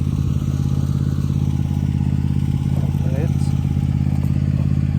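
A John Deere E170 lawn tractor drags a dethatcher back and forth across a driveway, its engine droning steadily and loudly up close with scraping clatter mixed in.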